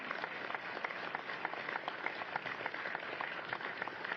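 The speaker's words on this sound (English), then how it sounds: "a round of applause for the newly promoted engineers to the Long Beach Fire Department" Applause at a Long Beach Fire Department promotional badge ceremony for newly promoted engineers, a sustained, even crowd of clapping hands heard from a moderate distance.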